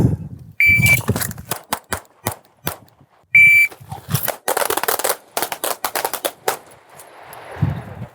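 Two sharp electronic shot timer beeps a few seconds apart, each followed by rapid bursts of loud pistol gunfire cracking in quick succession.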